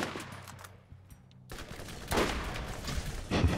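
Gunfire in the Borderlands video game comes as a brief rattle early on, then after a short hush a louder burst of shots with sharp cracks near the end, all close and without talk.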